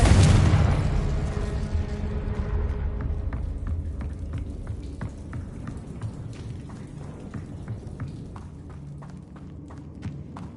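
A Confringo explosive spell bursts loudly at the start in the Hogwarts Legacy video game, then rumbles and crackles away over a sustained fiery hiss with scattered small pops, no talk.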